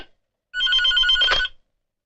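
A telephone rings once on an outgoing call, a single clear electronic ring burst lasting about a second, close and alone in otherwise silent surroundings.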